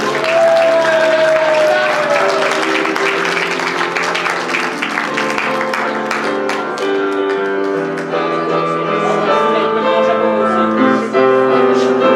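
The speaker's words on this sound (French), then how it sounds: "Une bonne main d'applaudissement pour Lou Gauvin-Dufresne." Steady applause from a crowd at a school graduation gown ceremony fills the whole stretch, with music playing underneath it the entire time.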